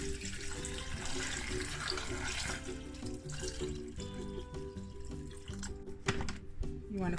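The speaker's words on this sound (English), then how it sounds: "you just want to fill it up with water" Tap water runs steadily into a container, a continuous gushing splash with a faint rising tone as it fills.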